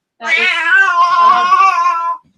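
A house cat lets out one long, loud, wavering meow close by, drawn out for about two seconds with a rising then falling pitch, alone in a quiet room.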